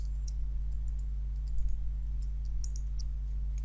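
Keys on a computer keyboard click in short, scattered taps while a command is typed, faint above a steady low hum, with no voices.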